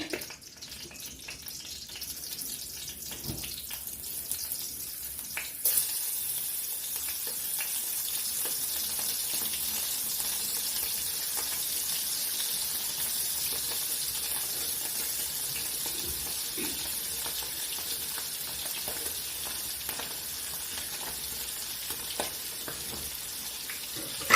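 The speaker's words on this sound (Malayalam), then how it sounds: "ചട്ടി വെച്ച് എണ്ണയൊക്കെ ഒഴിച്ചു കൊടുത്തു" Hot cooking oil in a pan sizzling and crackling steadily as fish fries, a constant close hiss that jumps louder after a few seconds and holds, with no talk.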